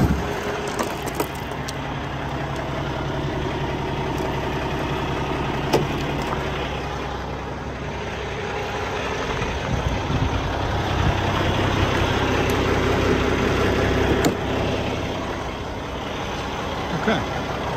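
A 2016 Peterbilt 579 with a Cummins ISX engine idles with a steady low rumble, close and continuous, with a few brief clicks and knocks over it.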